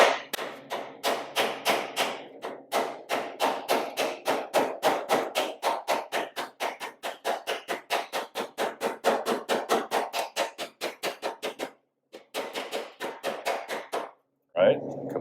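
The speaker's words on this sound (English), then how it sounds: "Hammering on the tack weld, because that's where the control is." Sheet metal hammered over a dolly on a tack weld during a custom COE truck headlight swap: a long run of rapid, evenly spaced metallic blows, loud and close, with a few brief pauses.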